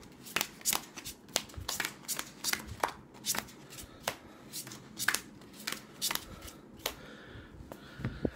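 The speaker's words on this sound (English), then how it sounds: "we're going to have our initial deal. So all our players get 5 cards each." Playing cards are dealt in a game of five card draw, five to each player, with crisp separate snaps and slides landing in an irregular rhythm, close up and fairly quiet, with no speech.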